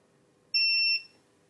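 A multimeter in continuity mode, used while repairing a PlayStation 5, gives one clean, steady high-pitched beep lasting about half a second in a quiet room.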